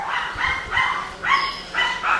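A pet dog barks at visitors, several sharp close barks in quick succession with short pauses between them.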